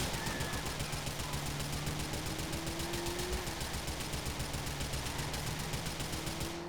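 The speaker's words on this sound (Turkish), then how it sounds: "Arabaya sıkıyorum bilerek de." Rapid, steady gunfire in GTA IV rattles on without pause at a car over a droning engine hum, loud and continuous like automatic weapons.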